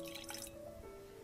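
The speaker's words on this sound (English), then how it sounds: "take some water and just put a little drop in" A little drop of water poured into a glass of very strong whiskey, a brief soft splash and drip heard close and alone, followed by a quiet, steady tone.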